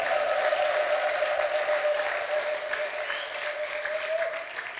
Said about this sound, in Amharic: እልልታ ጭብጨባ ለእግዚአብሔር ክብር